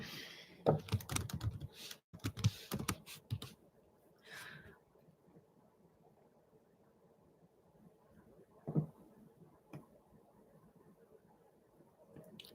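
Bursts of computer keyboard typing, fairly close and moderately loud for the first few seconds, then scattered faint keystrokes and quiet pauses, with a couple of isolated taps later.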